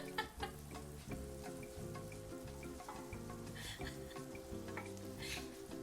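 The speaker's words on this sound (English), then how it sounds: "I know how to melt butter" Butter melting in a pan makes a steady, low sizzle with crackling and occasional faint pops, heard continuously and close but quietly with no talk.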